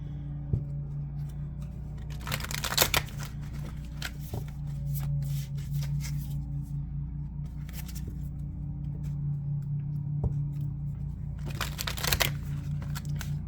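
Tarot cards being shuffled by hand in quiet indoor surroundings, with two louder riffling bursts standing out against a steady low hum and soft scattered card ticks between them.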